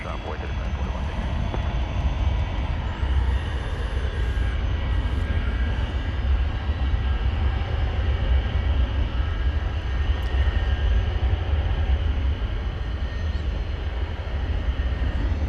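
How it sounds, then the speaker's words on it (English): An Airbus A300 jet departs at DFW, giving a steady, broad engine roar that holds throughout. Radio chatter and other sounds are faintly mixed in. "There goes the A300 on the right side of your screen."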